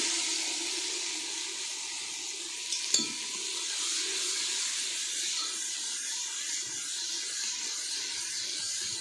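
Onions sizzle steadily in hot oil with cumin for a chicken curry, a constant hissing crackle, with a brief clink of a utensil partway through.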